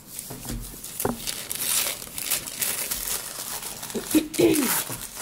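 Tissue or craft paper crinkles and tears while a package holding Sunday Leathercraft traveler's notebooks, shipped from Thailand, is unboxed. Close, uneven bursts of rustling and crumpling come with a few sharp rips, and a voice talks at times.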